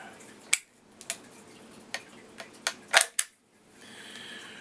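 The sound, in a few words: taking the bolt out of a surplus M95 rifle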